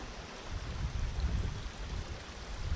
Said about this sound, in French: Là on suit ce ruisseau, je crois que ça s'appelle la Sourde,